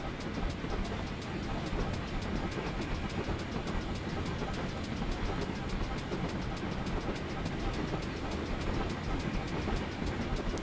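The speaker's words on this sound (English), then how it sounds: "Here another train." A steam-era King Class train runs along the Riviera Line, a steady broadband rumble and clatter of wheels on rails filling the scene continuously, with people talking over it.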